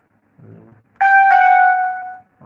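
A synthesized key sound from a music production plugin plays as a single bright, bell-like chord that rings loudly for about a second and fades, preceded by a brief low murmur.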